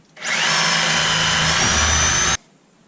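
A saw fitted with a fine-toothed metal-cutting blade slices through a bathroom P-trap pipe, making one loud, steady, high-pitched whine that runs for about two seconds and then stops abruptly, with no talking.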